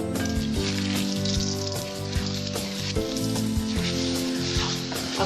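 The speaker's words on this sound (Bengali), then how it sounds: "আঁচটা কম দিয়ে ভাজবেন ডিমটা।" Eggs frying in a pan over low heat, seasoned with salt and turmeric for a Bengali egg masala curry; a steady close crackling sizzle with scattered sharper pops and faint stirring clicks, no talking.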